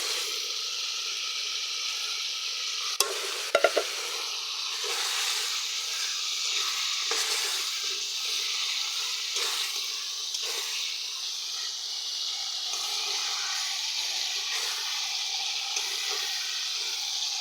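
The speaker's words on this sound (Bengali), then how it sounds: "এবার আমি মাছগুলো ঢেলে দেবো।" Mud fish poured into hot oil in a pan, a steady sizzling hiss with a couple of sharp clatters early and occasional stirring scrapes throughout.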